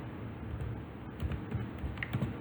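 Fingers type quickly on a computer keyboard, a soft, close run of small clicks and taps at low volume.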